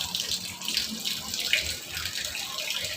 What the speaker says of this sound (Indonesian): Kita isi air dulu.